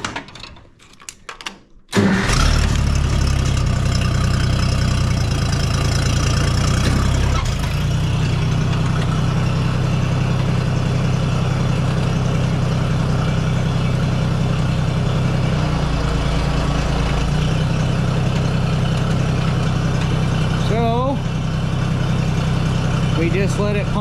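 A freshly serviced 1600 engine catches almost instantly after a brief crank, then settles into a steady, close, even idle that carries on unbroken.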